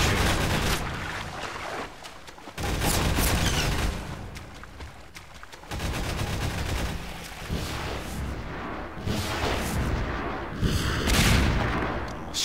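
Gunfire in the video game Half-Life 2, with repeated bursts of shots and booming impacts broken by short gaps, loud and dense, with game ambience between volleys.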